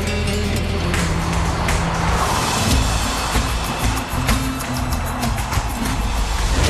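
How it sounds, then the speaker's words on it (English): A Porsche sports car lapping a track at very high speed, with a loud, steady engine roar and shifting tones as it drives fast laps, close to the microphone. "Two super fast laps show Ghosn how the Porsche performs."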